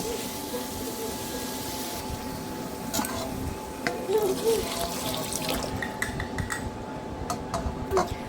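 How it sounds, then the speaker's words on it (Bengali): Water poured into a shrimp and potato curry in a pan, a splashing pour with dripping and light clinks of cookware, fairly close, with some background speech. "তারপর আমি দিয়ে দিলাম পরিমাণ মতো জল"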